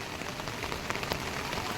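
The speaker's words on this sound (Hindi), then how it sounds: "आज फिर से रात भर और अभी लगातार बारिश हो रही है" Steady rain falls in Haridwar in the morning, a close, dense patter of drops on surfaces that runs unbroken and moderately loud with no voices.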